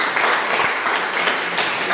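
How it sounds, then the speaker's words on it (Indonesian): Classroom students applauding a presenting discussion group after a biology lesson: a dense, loud burst of many hands clapping together, steady and continuous throughout. "Jadi berikan tepuk tangan buat mereka."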